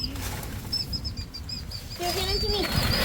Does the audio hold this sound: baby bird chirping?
yes